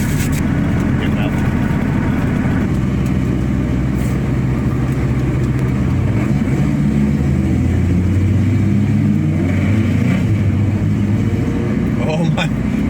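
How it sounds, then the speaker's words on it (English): A cheap road-trip car's engine droning and surging as its sticking throttle holds the revs up, loud and continuous, with voices talking over it inside the cabin. "Oh my, the throttle's sticking worse now too."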